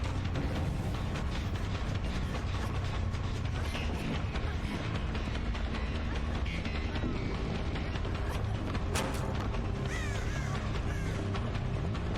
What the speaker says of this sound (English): We hear crows, so we know someone is up top.